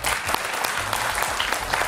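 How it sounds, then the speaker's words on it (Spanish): Steady, full audience applause during a televised studio debate, a dense even patter of many hands clapping at moderate loudness with no pauses. "Francisco, un aplauso."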